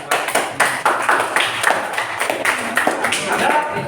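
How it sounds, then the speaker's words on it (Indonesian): A classroom group claps hands in applause during a math lesson, about a dozen sharp, close claps in an uneven rhythm with voices mixed in. "Oke, aplaus dulu."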